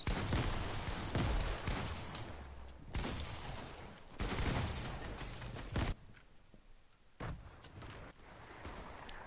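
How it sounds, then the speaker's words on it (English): Grenades explode repeatedly in an online multiplayer shooter, a dense run of booming blasts and gunfire that fills the first six seconds, then falls to quieter rumbling and scattered shots. "this guy's literally just spamming nades"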